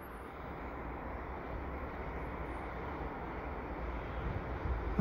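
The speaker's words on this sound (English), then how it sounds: "I'm here at Dorval in the snow with a night train." A westbound container freight train rolls past at night in snowy weather at Dorval, a steady broadband rumble and roar holding at a constant level and swelling slightly toward the end, with no voices.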